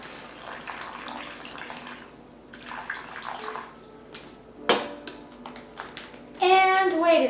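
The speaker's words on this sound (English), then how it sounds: "Next you want to pour some of the water in." Water splashes and trickles in short bursts into a plastic bag holding blueberries, with crinkling sounds from handling in between, ending in a louder steady pour.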